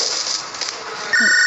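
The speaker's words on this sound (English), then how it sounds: "Okay, so I need to answer the phone back." A video game telephone ringing, a tonal electronic ring that starts near the end after quieter game ambience, loud and close.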